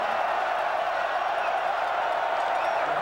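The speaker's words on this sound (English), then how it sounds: "Listen to the crowd." A dense college football stadium crowd roars continuously on a 4th-and-goal play, a loud sustained wash of voices and cheering throughout.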